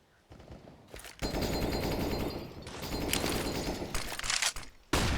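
Bursts of rapid gunfire in a first-person shooter match, clustered automatic fire rattling in several stretches with brief pauses, fairly loud and with no voices over it.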